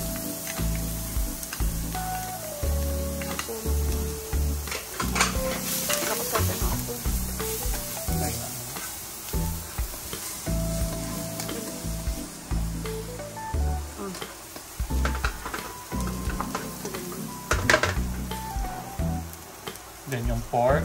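Garlic and onion sauté in a pan with a crackling, rain-like sizzle and clattering stirring, close up, while a person talks intermittently over the cooking.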